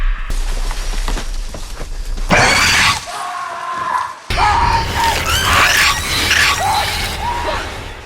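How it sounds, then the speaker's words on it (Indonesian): Loud, frantic screaming and shouting voices in a horror film, with chaotic crashes and rustling, a sudden hush partway through, then more panicked yelling. "Semua orang panik mendengar teriakan Charlie"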